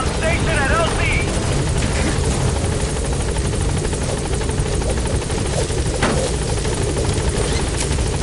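Helicopter B-Quad from Metal Gear Solid V: The Phantom Pain arriving at a landing zone, a steady loud rotor thrum and engine drone filling the whole stretch, with faint radio voices briefly over it.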